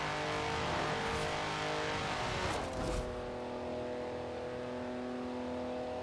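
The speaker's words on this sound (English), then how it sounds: "we're going to be using our Austin Healey Sprite Mark 1" An Austin Healey Sprite Mark 1 driving in Forza Horizon 4, its engine droning steadily with harmonic tones shifting as it accelerates and settles, loud and continuous with no talking.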